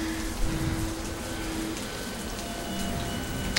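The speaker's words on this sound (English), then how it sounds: "compared to the fact that it's raining" Steady rain falls in the video game The Path, an even, continuous patter with no voices.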